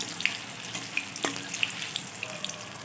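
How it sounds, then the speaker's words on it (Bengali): Raw banana kofta fritters frying in hot oil as they are turned, giving a steady close sizzle with scattered crisp pops and a sharp clink of a utensil partway through. "কাঁচকলার বড়াগুলো আমি এবার এরকমভাবে উল্টে পাল্টে সুন্দরভাবে ভেজে নেব"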